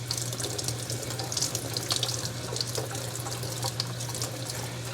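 Cool tap water running from a sink faucet over a K&N air filter being rinsed, a steady close splashing hiss that continues without a break and with no voices.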